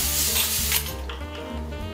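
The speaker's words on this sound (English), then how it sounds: "take your pan and you want to spray it with some non-cooking spray." Non-stick cooking spray hissing onto a pan before baking salmon, a bright sustained spray that cuts off partway, followed by quieter residual hiss.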